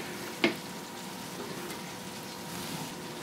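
Sausage gravy simmers in a pan with a soft, steady bubbling hiss, heard faintly and close, with one brief clink early on and no talking.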